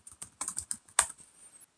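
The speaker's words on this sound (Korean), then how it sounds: "타이핑을 해볼게요." Quick bursts of keystrokes on a computer keyboard, a dozen or so close, crisp clicks in an uneven rhythm with one louder tap near the middle, then a short trailing rattle before stopping.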